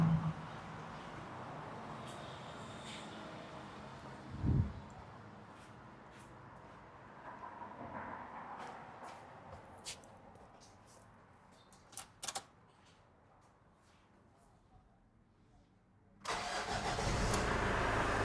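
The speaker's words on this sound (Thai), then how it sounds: "เดี๋ยวลองสตาร์ทเครื่องให้ฟัง" After a long quiet stretch with scattered clicks, the 2.5-litre diesel engine of a 2008 Mazda BT-50 pickup cranks and catches near the end, then settles into a loud, steady rumbling idle.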